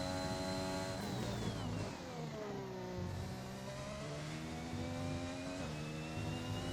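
Race car engine in F1 2021 held at full throttle, a loud continuous high-pitched whine with harmonics climbing and dipping through gear changes, no speech over it.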